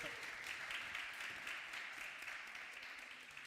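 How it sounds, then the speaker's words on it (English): Conference audience applause for a panel speaker, a wash of many hands clapping steadily, heard at a distance and gradually tapering off. "One applause for Syed Kamal."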